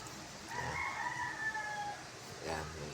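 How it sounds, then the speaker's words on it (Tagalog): Pet chickens in a home yard give a rooster crow lasting about a second and a half, moderately close, with faint clucking and background murmur around it. "Ayan, mga alaga kong ibon."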